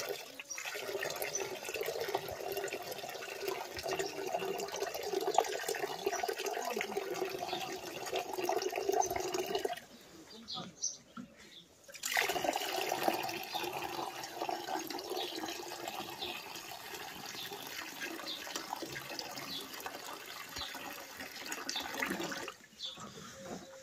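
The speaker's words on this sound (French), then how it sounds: "je suis en train de verser l'eau" Water being poured, most likely into a dirty pet cage, making a steady, moderately loud splashing flow that runs for several seconds, breaks off into a short quiet gap, then resumes and runs on continuously.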